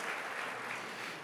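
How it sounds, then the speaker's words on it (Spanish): A church congregation applauds, a dense, even wash of clapping that holds steady for a moment, with no voices. "Denle un aplauso al Rey bendito."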